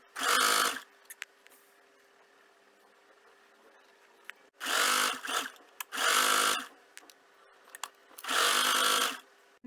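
A sewing machine stitching an apron runs in four loud bursts of rapid needle clatter, each lasting about a second, separated by quiet gaps with small clicks and fabric handling.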